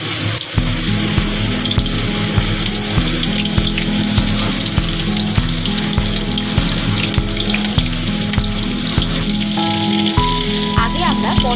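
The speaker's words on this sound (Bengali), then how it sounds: "এবার এক এক করে পটলের টুকরোগুলো আগে আমরা তেলের মধ্যে দেবো ভাজা করার জন্য।" Pieces of pointed gourd frying in hot oil in a home kitchen, a steady loud sizzle with crackles and a regular low rhythmic hum beneath.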